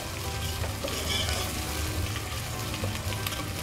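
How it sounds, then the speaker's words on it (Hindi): Onions and spices fry in a pan for Punjabi kadhi pakora, a steady close sizzle with soft crackles and occasional stirring scrapes running throughout without talk. "देखिए तीनों चीज़ें बहुत अच्छी तरह से भून रही हैं।"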